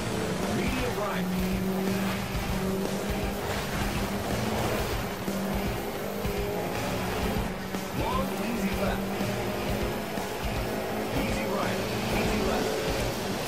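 In the Sega Rally game on PS3, a rally car's engine drones continuously and its tires squeal now and then. Someone talks over it throughout in steady commentary.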